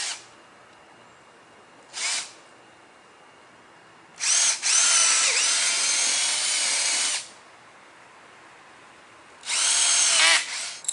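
Power drill boring holes in a bow and arrow target backstop, short whirring bursts then two longer steady high runs, close and loud, with no talking.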